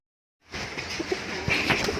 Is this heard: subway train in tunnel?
no